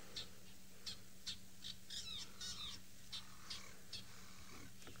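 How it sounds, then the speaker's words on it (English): A fork-tailed drongo on a safari drive gives an alarm call warning of a leopard, a run of repeated sharp, chattering squawks in quick bursts, clear and fairly close over quiet bush background. "So that fork-tailed drongo is alarming and telling everybody else that there's a leopard now."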